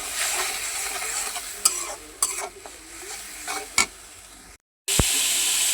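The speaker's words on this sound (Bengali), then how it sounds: "মশলাটা দিয়ে দিলাম, এখন ভালো করে কষাই নেব" Leafy greens stir-fried in a pan with added spices, giving a continuous close sizzle with occasional sharp scrapes and clinks of the spoon, a short silent break, then the frying resumes loudly.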